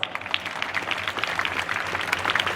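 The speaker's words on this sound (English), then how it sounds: "Your hard work and dedication needs a huge round of applause." An audience at a Youth Parliament school event claps steadily, moderately loud and a little distant, with no voices over the clapping.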